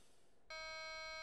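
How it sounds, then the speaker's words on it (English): A conductor's departure buzzer in the subway train simulator Train Crew, a single sustained electronic buzz that switches on abruptly after a quiet moment and holds steadily, loud and alone. "Do not depart till there is a buzzer from the conductor."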